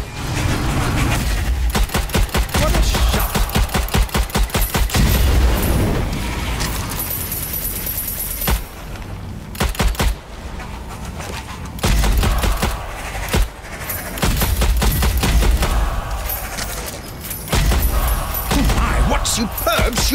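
Rapid bursts of gunfire in the Strange Brigade video game, set in the Tunnels of Wadjet, crackle loudly and almost continuously, with short pauses between volleys and a narrator's voice speaking over the shooting.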